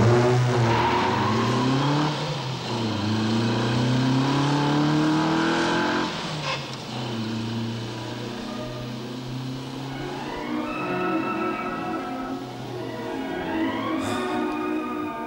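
A car engine accelerates hard through several gear changes, loud and close with rising revs and a brief tire squeal, no voices over it.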